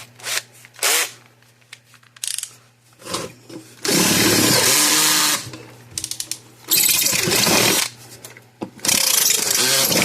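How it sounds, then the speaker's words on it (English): A power drill bores out the bushings on a Parmak 6V solar pak unit in short, loud, close bursts. Brief whirs and clicks give way to longer sustained grinding runs separated by pauses. "we need to drill out these bushings"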